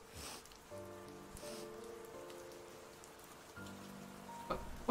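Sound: rain, from the video game Camp Buddy

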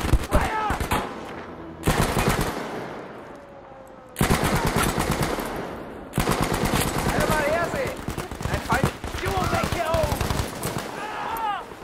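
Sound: gunfire from handguns in the video game Battlefield V

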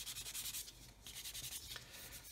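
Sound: fine sanding sponge rubbing plastic

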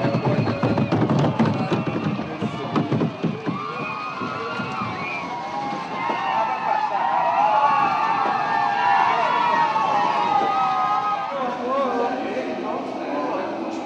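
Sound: Brazilian football fans (torcida) cheering in the stadium

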